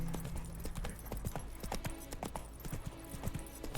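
Roach, a horse in the video game Witcher 3, clip-clops along in a steady, fairly loud rhythm of hoofbeats, close up and with no talk over it.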